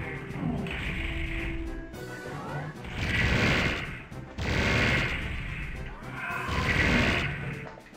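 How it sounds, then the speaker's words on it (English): Plasma gun fire against a revenant in the video game Doomed Space Wars, loud bursts of rapid crackling shots in three or four long volleys separated by brief pauses, close and alone. "I think this time I'll use the plasma gun against the revenant"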